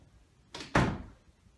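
A door swings shut over a resistance band anchor, giving one loud close thump after a lighter contact knock, with no talking.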